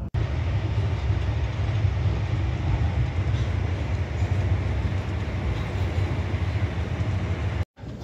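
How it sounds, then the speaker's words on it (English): Sleeper train from Aberdeen to Penzance running nonstop through Bristol Temple Meads, a loud continuous roar and rumble close by, cutting off abruptly for a moment near the end. "The train is passing through Bristol Temple Meads without stopping."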